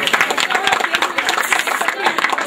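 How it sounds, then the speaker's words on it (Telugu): Family members clap together at a Pongal celebration where a garland is placed on a couple. The clapping is dense and steady throughout, close by, with voices talking over it. "అందరూ పొలమాలు చప్పట్లు కొట్టాలి"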